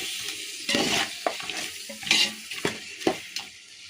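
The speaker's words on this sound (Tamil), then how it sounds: "ஸோ தண்ணி வாட்டர் ஆட் பண்ணிக்கலாம்" Water pours and splashes into a mutton biryani pot in a kitchen in uneven gushes, with clinks and stirring noises and no one talking.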